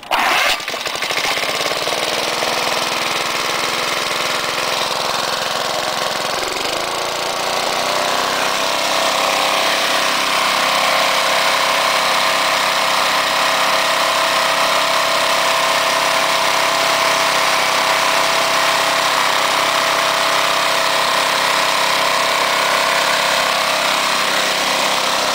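An old lawn mower's Briggs & Stratton 3.5 horsepower small engine runs steadily, close and loud, with a constant buzzing drone that holds for the whole stretch and no talking.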